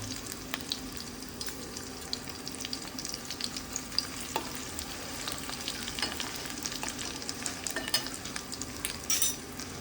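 Garlic, ginger and chili paste frying in a hot pan for a prawn dish, a steady close sizzle with light stirring scrapes and clinks throughout, no voices.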